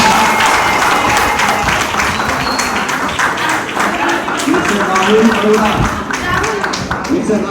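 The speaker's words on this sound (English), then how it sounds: "Big clapping for the runner-up team" An audience at a law college moot court competition claps for the runner-up team, steady sustained applause throughout with some voices mixed in.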